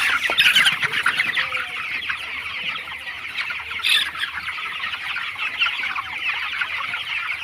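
Broiler chickens fill a farm shed with dense, continuous clucking and chatter, a loud crowded flock with no single bird standing out.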